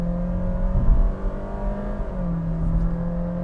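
A Honda City hatch with a CVT gearbox accelerates hard, its engine holding a steady droning pitch from inside the cabin, then dropping slightly as the transmission makes a stepped shift.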